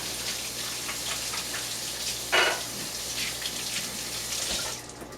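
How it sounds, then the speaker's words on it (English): A kitchen faucet runs steadily into a sink as hands are rinsed under it, a soft continuous splashing with a brief louder gush in the middle before the flow cuts off near the end. "Now, I want to rinse my hands quickly."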